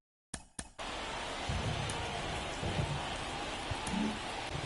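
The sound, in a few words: rain in the video game MLB The Show 24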